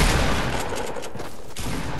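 Gunfire from a video game erupts in a dense, close burst of rapid shots, loud and continuous throughout the short stretch.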